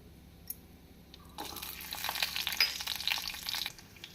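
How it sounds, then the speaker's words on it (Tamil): Garlic cloves dropped into hot oil with mustard seeds and urad dal for a coconut tamarind chutney tempering, a soft sizzle rising suddenly and crackling steadily close by for a couple of seconds before easing off. "இந்த சமயம் நாம் பூண்டு பற்களை போட்டுக்கொள்ளலாம்."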